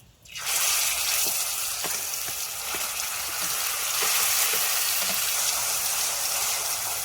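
Ground shrimp paste with dried red chillies and nigella seeds hitting hot oil in a pan, bursting into a loud, close, continuous hiss that holds steady, with a few light taps of a spatula.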